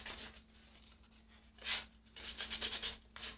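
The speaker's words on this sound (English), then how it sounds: "to rub off some of this paint that we just put on here." Paint being rubbed off a wire-wrapped glass jar makes soft, close scratchy rubbing strokes in irregular bursts, quiet, with a faint steady hum beneath and no voices.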